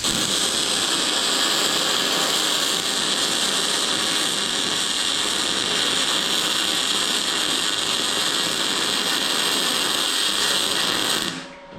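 An R-Tech 180 or 250 amp portable 240v inverter MIG welder welding at full power, giving a loud, continuous, close crackling buzz for about eleven seconds that stops abruptly at the end.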